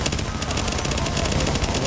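Rapid automatic gunfire from The Division video game, a dense continuous burst of shots filling the whole stretch at steady loudness, with a voice partly mixed in.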